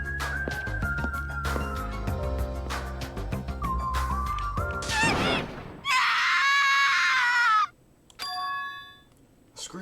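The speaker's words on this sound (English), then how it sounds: "A scream." A shrill, sustained scream bursts out in the video game Danganronpa 2: Goodbye Despair, loud and piercing for about two seconds after soft chiming game music, followed by a brief exclamation and bell-like tones.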